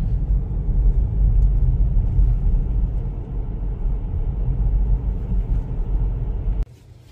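A Ford Mustang is driven at steady speed, giving a continuous low engine and road rumble heard from inside the cabin. It drops off abruptly near the end.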